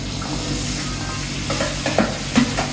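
Cabbage, chili, tomato and onion stir-fry in a pan for tongseng, a steady sizzle broken by a few scraping stirs of the spatula toward the end.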